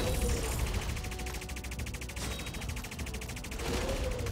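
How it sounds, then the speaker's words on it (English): Turrets in the Rise of Legions strategy game fire at an enemy base in a steady, rapid automatic stream, sustained and even throughout the clip. "go, my little turrets. Shoot at the base."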